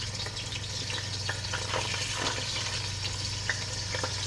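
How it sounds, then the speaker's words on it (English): Pieces of oxtail sear in a hot Dutch pot with a steady, close, even sizzle that runs without a break, alongside a low constant hum. "But I'm going to sear these, and they not going to be done."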